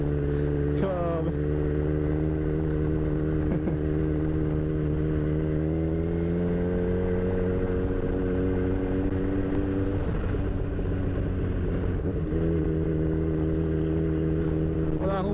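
Kawasaki Z1000 big bike engine running steadily during a ride, a continuous droning hum with harmonic whine that shifts in pitch as it revs, with occasional voices talking over it.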